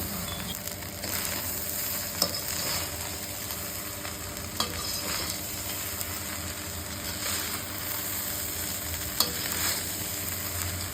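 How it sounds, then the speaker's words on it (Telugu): Egg fried rice cooks over high heat with ghee, a soft, steady sizzle and hiss under repeated stirring scrapes and occasional sharp clinks of a spoon against the pan, fairly quiet and close. "స్పీడ్లో పెట్టి రెండు స్పూన్ నెయ్యి కూడా వేసుకుంటున్నానండి బాగా కలుపుకొని"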